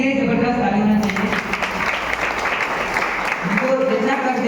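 Applause from an audience at a DXN gathering, honouring a speaker's mother, breaks out after a voice and continues as broad clapping, with speech returning briefly near the end.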